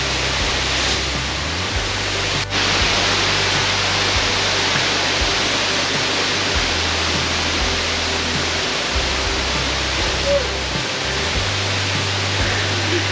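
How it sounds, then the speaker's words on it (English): Loud, steady roar of a waterfall on a hidden hiking trail in Kentucky, a broad continuous rush of falling water heard up close with no voices. "right here in front of the waterfall"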